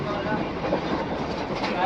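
A train runs along the rails with a continuous rumbling, rattling roll, moderately loud and close for the whole short stretch, no clear talk over it.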